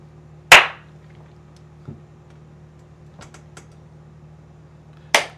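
Two sharp, isolated hand claps in a quiet room at a computer, recorded close to the microphone and separated by a few faint small knocks.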